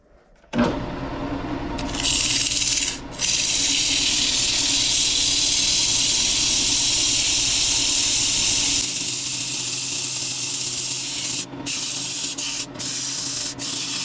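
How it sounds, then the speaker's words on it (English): Sanding a wooden live edge vase spinning on a woodturning lathe, working through grits from 80 to 400: a steady, loud abrasive hiss over the lathe's motor hum, with a few brief breaks as the paper lifts away. "All right, the piece is all sanded."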